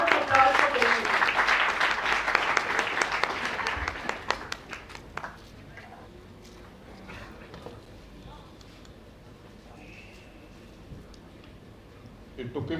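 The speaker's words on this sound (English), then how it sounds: "Give a big round of applause for Keshav." An audience at a literature festival applauds for an artist named Keshav. Dense, loud clapping fills the room for about four seconds, then fades to scattered claps and a quieter hall with some background voices.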